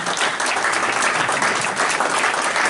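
Dense, steady applause from an audience at a business morning event, welcoming a speaker; loud, continuous clapping with no pauses for just under three seconds.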